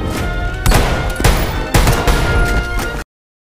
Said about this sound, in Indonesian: lalu Slade pun datang melepaskan tembakan